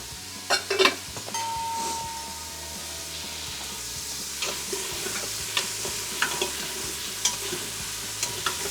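One large chopped onion sizzles softly in an Instant Pot on sauté while a utensil stirs it, giving a steady low frying hiss with occasional scrapes and clinks against the pot.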